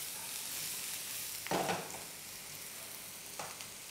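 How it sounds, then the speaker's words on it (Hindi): Onions being mixed and fried in a pan, a low steady sizzle broken by two scraping stirs of a spoon, quiet and close, with no speech. "नेक्स्ट इसमें जाएगा अनियंस, इसको कर लेना है अच्छे से मिक्स"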